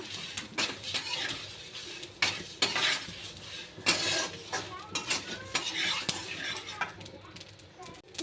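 Dry spices for karamcha pickle masala rattle and scrape in a pan as a spoon stirs them steadily, with a soft sizzle and occasional sharper clinks of metal close by.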